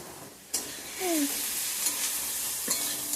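Garlic and onion with a pinch of salt fry in a pan for a Bengali tarka, a steady close sizzle broken by sharp stirring scrapes and clacks of a spoon against the pan.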